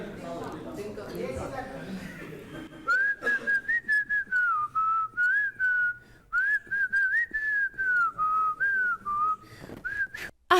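A guest on a TV courtroom-style talk show whistles two or three lines of a song, a clear, steady melodic whistle with short breaths between phrases, preceded by talking and followed by audience noise.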